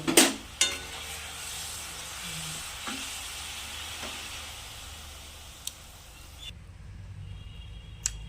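Mango sour dish bubbling in a pot on the stove: a soft, steady hiss and simmer with a few sharp clinks of utensils against the pot near the start.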